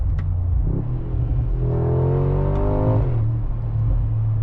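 A 2025 Mercedes-AMG G63 V8 SUV engine drones in a close, steady rumble, its revs climbing and then dropping sharply through a gear shift before settling back to a low growl.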